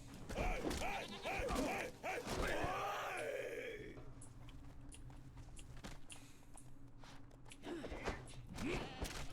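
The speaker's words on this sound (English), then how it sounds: "Some rando-ass goats" Goats bleating in the survival game Conan Exiles: several wavering, groaning bleats stack up close in the first few seconds, then quieter clicks and footsteps follow before another bleat near the end.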